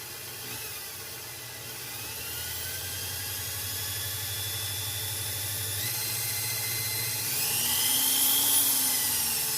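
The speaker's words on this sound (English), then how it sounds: "Here I go. I'm going to trigger the drill." Power drill spinning a GM bus speedometer on a workbench, a steady high whine and hum that holds through the clip and climbs in pitch near the end.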